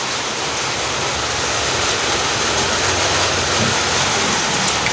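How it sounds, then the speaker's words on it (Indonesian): Steady rain falling at a workshop at dawn, a loud, even hiss of rainfall that stays constant with no voices. "Dan di bengkel pun hujan."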